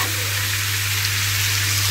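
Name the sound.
pork cracklings frying in pan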